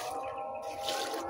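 Water poured over potted plants, jackfruit seedlings and flowers on a home terrace, a steady close splashing and trickling with no talk over it.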